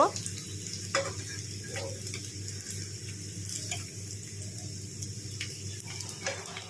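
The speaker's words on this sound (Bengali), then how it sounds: "এইভাবে উল্টে পাল্টে আমি ভেজে নেব" Stuffed snacks, crispy outside and filled inside, fry in a pan of oil with a steady soft sizzle and occasional light scraping as they are turned, close by and without talk.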